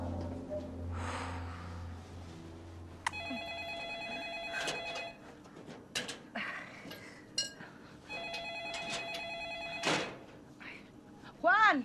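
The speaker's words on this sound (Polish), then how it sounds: "dzwoni telefon. Odbierz." A telephone bell rings in two long electronic bursts indoors, with people talking around it and some rustling and thumps between the rings.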